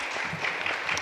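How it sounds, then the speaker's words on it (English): Audience at a space medicine panel discussion claps briefly, a short, fairly quiet patter of hands lasting about a second. "So let's give him applause."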